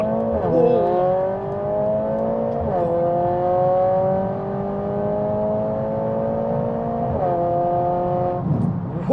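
A car fitted with an aftermarket downpipe, exhaust set to race mode, drones loudly and close up, rising in pitch through long gear pulls with sharp drops at each shift, no talking over it.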